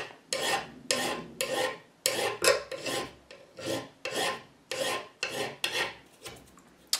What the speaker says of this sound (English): So if I scratch the plug every now and then here on the side,